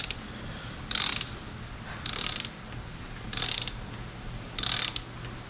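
Ratchet wrench snugging bolts on a motorized bike engine: four short bursts of rapid clicking about a second apart, each a quick run of ratchet pawl clicks over a low steady hum, fairly close and moderately loud.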